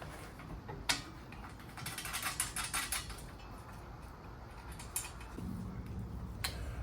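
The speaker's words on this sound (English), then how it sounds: "We're gonna take our larger nut and go ahead and lock it down in place." A nut is tightened by hand while an Audi A4 CTS intake is installed, a series of close ratcheting clicks and metallic creaks with short sharp taps, no talk.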